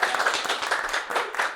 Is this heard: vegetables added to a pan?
no